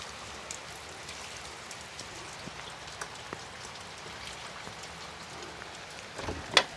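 Steady heavy rain pattering on a small farm, an even dense hiss of drops with occasional sharper splashes, and one louder knock near the end.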